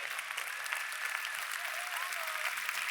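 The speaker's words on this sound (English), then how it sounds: "Give him a giant round of applause" A seated business-seminar audience claps in a sustained, dense round of applause, steady and fairly distant throughout, with faint crowd voices mixed in.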